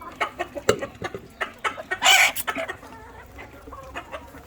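Chickens near an incubator cluck in short, scattered, close-up bursts, with one louder squawk in the middle and quieter clucks around it.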